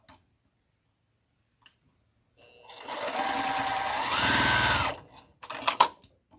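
Sewing machine piecing quilt block pieces together: a steady, close mechanical whirr of fast stitching that runs for about two seconds, then stops, followed by a few small clicks and handling noises.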